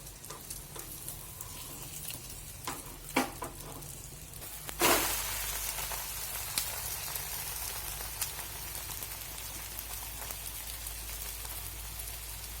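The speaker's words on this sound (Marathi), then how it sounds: "पाच ते 6 मिनिट दोन्ही साइडने भाजून घ्यायचे आहे।" Egg omelette frying in a pan on both sides, a steady close crackling sizzle throughout with a louder burst of spattering partway through, no voices.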